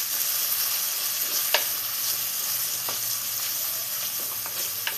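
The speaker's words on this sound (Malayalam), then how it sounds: "തക്കാളിയെല്ലാം വഴറ്റിയെടുത്തിട്ടുണ്ട്" Chopped tomato sizzles steadily while it is sautéed in a pan for fish peera, a constant frying hiss with a few faint stir clicks and scrapes and no talk.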